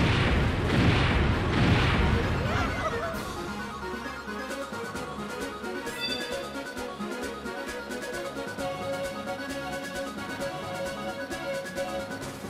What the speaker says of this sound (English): Big bomb cannon, fire!